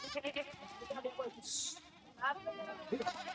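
Red Kathiawadi goats bleat in a few short, wavering calls, one after another at close range, with someone talking between and over them.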